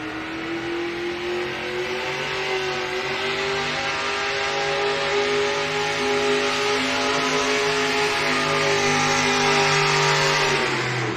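A naturally aspirated pulling tractor roars down the track at a truck and tractor pull in Madera, California, its loud engine holding a sustained, slightly wavering drone that swells toward the end before cutting off.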